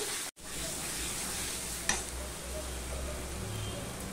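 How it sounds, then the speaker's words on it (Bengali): Boiled, fried potatoes being sautéed in a pan, a soft, even sizzle with occasional stirring and a brief scrape partway through, fairly quiet and without talk. "আলুটা তো সিদ্ধই হয়ে গেছে, তবুও আমি একটুখানি কষিয়ে নিচ্ছি"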